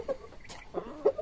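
A hen clucks a few soft, separate times from nearby on a poultry-keeping setting where she is being introduced to a blue Shamo rooster; the calls are fairly quiet against a light background hiss.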